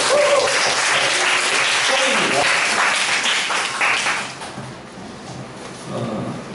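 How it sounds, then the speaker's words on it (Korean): A church congregation claps together during a Korean sermon, a dense burst that thins and fades after a few seconds as a voice comes in near the end. "서로에게 격려의 박수를 좀 드립시다"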